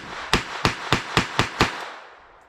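A Beretta 950 BS pistol fires CCI .22 Short hollow-point rounds in six quick, sharp, evenly spaced shots about a quarter second apart, each a close, loud crack, with no talking.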